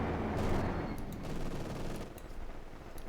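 Machine gun fire from Company of Heroes 2, a dense continuous rattle of rapid shots with some louder bursts, steady and fairly close throughout.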